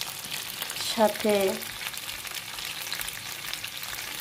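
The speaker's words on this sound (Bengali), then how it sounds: "গুঁড়ো চিংড়ি মাছ, মানে শুটকি গুঁড়ো চিংড়ি মাছ দিয়ে রান্না করছিলাম রাত্রের বেলা" A dish of dried shrimp powder fries at night with a continuous moderate sizzle, and a voice speaks briefly over it.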